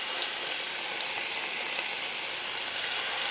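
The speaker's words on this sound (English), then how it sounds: "we're gonna go ahead and add in our short ribs." Short ribs sear in a hot skillet with a steady, dense sizzle that stays loud and even throughout, with no talking.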